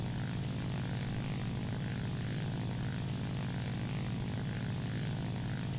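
A La-9 fighter plane's piston engine drones steadily during a climb in War Thunder, a loud, continuous propeller roar with a low throbbing hum that holds constant throughout with no voices.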